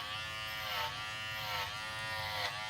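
Kenchi Flash dog grooming clippers buzz steadily at close range while trimming a King Charles Cavalier Spaniel, with slight periodic rises in loudness as the blade works through the coat.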